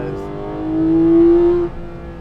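Porsche 911 GT3 engine accelerating on a race track, a loud close rising drone that swells for about a second and then drops back, with no talk over it.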